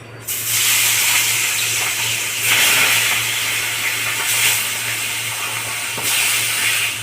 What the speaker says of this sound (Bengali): বাকি মাছগুলো এইভাবেই আমি ভেজে নেব।